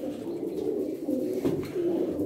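Pigeons from Bulgaria coo steadily at close range in a low, rolling, continuous murmur with no talking.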